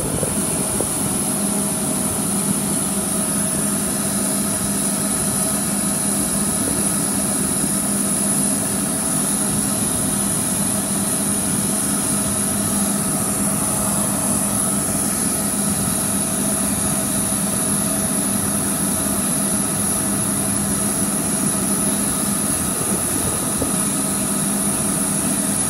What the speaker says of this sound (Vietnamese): Nó bắt đầu nó đè cái máy lớn động cơ nè